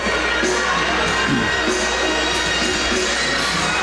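Crowd cheering at an ice hockey game between the Riverkings and the Hudson Havoc, a loud sustained roar of many voices with some higher children's shouts, filling the whole arena.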